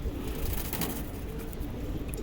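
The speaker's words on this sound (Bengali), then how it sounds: "মানে দেখার মতো কবুতর এগুলো" Safchila pigeons coo softly within a noisy outdoor setting, their low calls faint and partly buried under a steady rumble of background noise.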